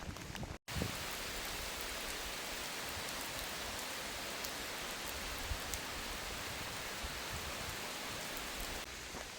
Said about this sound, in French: il pleut depuis presque 3 quarts d'heure